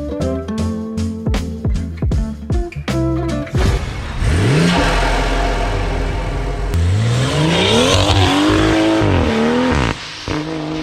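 A BMW fitted with a new turbo elbow revs hard and close: several sharp blips of the throttle, then a long climbing rev that holds high and rises again before cutting off abruptly.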